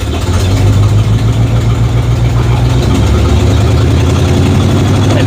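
A car engine runs loud and close, a steady low rumble whose pitch shifts partway through as the throttle is opened, with no talking over it.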